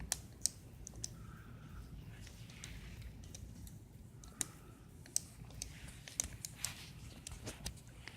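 Light typing on a computer keyboard, scattered faint key clicks in an uneven rhythm over a low room hum, with no voices.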